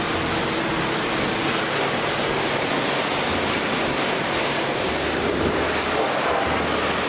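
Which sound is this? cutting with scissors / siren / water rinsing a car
water rinsing a car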